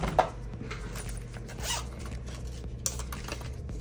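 Zipper on a small cloth bank bag for cash being pulled open, a quick rasping run followed by softer fabric rustling and handling noises, close up with no talking.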